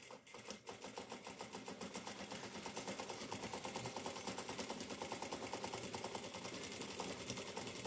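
A sewing machine stitches steadily and rapidly, its needle beating in a fast even rhythm as a seam fastens a bra cup to the lining of a long gypsy-style dress; quiet and close, with no voices.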